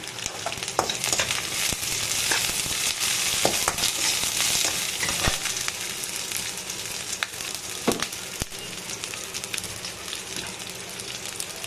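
Green chillies sizzle and fry steadily in a pan for vegetable Maggi, a continuous crackling hiss broken by sharp stirring clicks and scrapes, close and fairly loud, with no talking.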